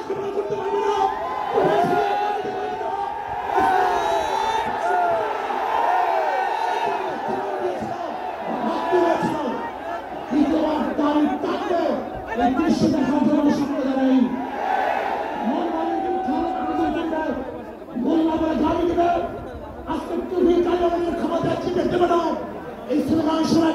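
A large Bangladeshi rally crowd chants slogans loudly in unison, with rhythmic shouted phrases and cheering surging and dipping continuously throughout.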